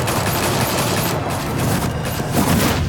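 A sustained burst of rapid gunfire from several weapons in Batman: The Telltale Series, a loud continuous fusillade with booming shots and no voices over it.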